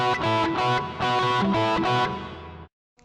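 An electric guitar with heavy distortion plays a solo pattern, a run of about seven rapid picked notes that ring out and then cut off abruptly.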